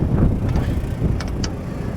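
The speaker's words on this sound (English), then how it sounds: "We still got a bunch of wind." Strong outdoor wind buffets the microphone in a low, continuous roar around a Long Island City generator service site, steady and loud with no voices.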